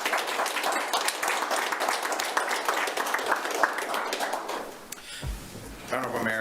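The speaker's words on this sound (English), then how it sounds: "let's have a big round of applause for Mercedes" At a Laramie, Wyoming city government meeting, an audience gives Mercedes a round of applause. The clapping is brisk and crackly, thins out near the end, and a voice then starts talking.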